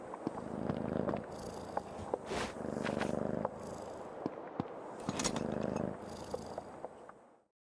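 A cat purrs close and soft in the video game Creepy Tale 2, a steady rumbling rhythm broken by sharp clicks and small bangs from the game, then fading out at the end.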